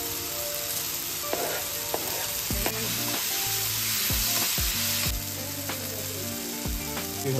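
Tomato gravy with green chilli sizzling in a pan, a dense continuous hiss with low bubbling pops and occasional stirring knocks, close and steady throughout.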